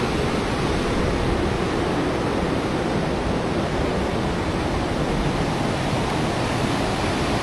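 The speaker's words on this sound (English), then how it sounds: "Raging today after all that storm water." A fast-flowing river in Llangollen, swollen with storm water, roars as a steady, dense rush of noise that carries on unbroken and close by, with no voices.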